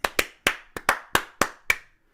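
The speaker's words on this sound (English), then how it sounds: "I want you to repeat this clap that I do" A single person claps out a short rhythmic pattern of eight sharp, close hand claps with uneven spacing, crisp and isolated against silence.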